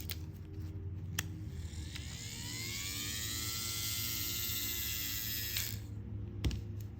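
A wind-up tattoo machine with a braking mechanism spins up fast, giving a steady whirring hum that rises in pitch over several seconds before clicking off, with a few sharp mechanical clicks at the start and end.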